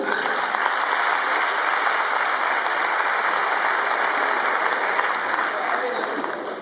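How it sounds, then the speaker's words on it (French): Audience applause for a graduating class, the 2014-2015 promotion, at a school ceremony: dense, steady clapping from a large crowd, loud and continuous throughout, easing slightly at the very end. "vous pouvez les applaudir"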